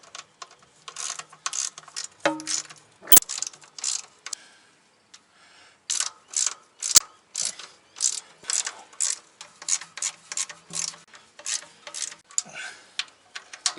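A hand ratchet tightening the automatic transmission pan bolts on a Ford BA Falcon four-speed: rapid, close clicking in repeated bursts with short pauses between them, and a couple of sharp metallic knocks.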